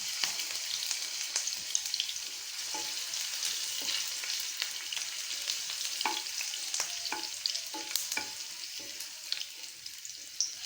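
Chopped ginger hits hot mustard oil in a wok and fries with a steady bright sizzle, punctuated by scattered crackles and pops throughout, close and continuous with no talking.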